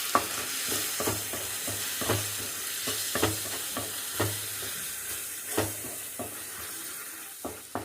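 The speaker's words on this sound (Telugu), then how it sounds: "మిశ్రమం చక్కగా వేగింది కదా." A tomato dal base with salt, turmeric and chili powder fries in a pan, a steady sizzle broken by regular scraping strokes of a spoon about once a second, close and moderately quiet.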